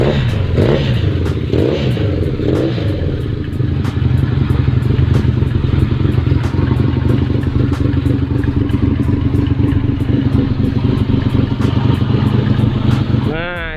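A Honda CB400 DOHC motorcycle engine runs close by, a loud steady idle with a smooth even pulse throughout.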